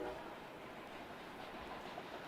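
Train rolling along tracks roughly 150 feet behind a high school baseball field, a steady low rumble and rattle that holds evenly throughout at moderate distance.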